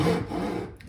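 A hand saw is drawn backwards once across a wooden workpiece to start a cut for an inlaid altar table, a single short, close rasping stroke with no talking.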